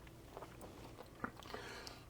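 Someone bites into and chews a crunchy piece of bread, a crusty loaf from Canyon Sunrise Bread Co., producing a few sharp close crunches and soft chewing noises with no talking.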